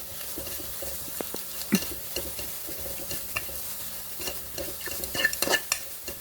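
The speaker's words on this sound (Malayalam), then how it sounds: "ആ നെയ്യിലേക്കിട്ട് നമുക്കൊന്ന് ഗോൾഡൻ ബ്രൗൺ ആവുന്നത് വരെ വഴറ്റിയെടുക്കാം" Thin slices frying in ghee until golden brown, a continuous close sizzle under frequent scraping stirs and light utensil clicks against the pan, no talk.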